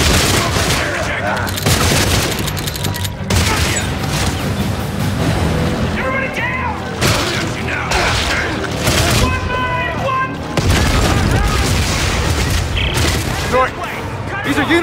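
Gunfire and booms from the video game Dead Space 3 run through a loud, dense combat scene, with bursts of shooting and heavy impacts layered under shouted voices and music.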